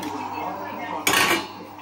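A duck egg drops into a pan of cooked spices thickened with a little water, giving one sudden loud sizzling splash midway that fades over about half a second against a steady low cooking hiss, close by and without talk.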